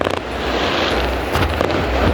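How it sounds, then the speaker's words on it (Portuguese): Fireworks bursting over a family bonfire night, a dense, continuous crackle and rumble with a few sharper pops throughout, loud and fairly near, no talk. "Olha os fogos ali, lá"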